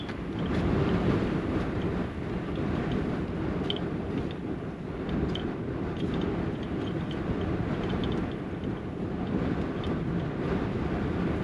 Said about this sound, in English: Oh, that wind is not very fun today.